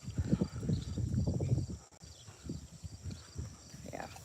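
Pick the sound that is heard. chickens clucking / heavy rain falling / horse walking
horse walking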